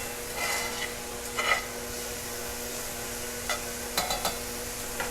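Garlicky vegetables being stirred in a pan, a few soft scrapes and light clinks of the utensil over a quiet background hum, with no voices.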